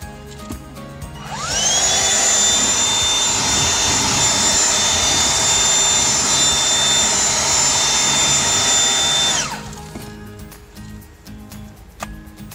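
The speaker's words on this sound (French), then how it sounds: "Avec le Car Kit, entre autres, vous avez ce tuyau flexible que vous pouvez mettre sur le Gtech Multi et vous pouvez nettoyer aussi en dessous des sièges" Gtech Multi handheld vacuum with a flexible hose from the Car Kit, cleaning under car seats: a steady high-pitched motor whine starts abruptly, holds for about eight seconds, then cuts off, with no talk.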